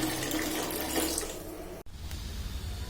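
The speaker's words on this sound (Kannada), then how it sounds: "ನೀರು ಬರ್ತಾ ಇದೆ" Water running steadily from a tap, splashing close by with a bright hiss; a brief click interrupts it before the flow continues.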